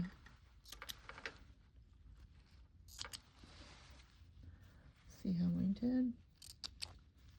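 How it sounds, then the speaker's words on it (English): Scissors trimming excess fabric from the inside seam of a balloon-sleeve blouse, several quiet crisp snips spread out under a soft background, with a voice speaking briefly partway through. "we just have to cut that excess fabric on the inside, and then we'll have a clean edge"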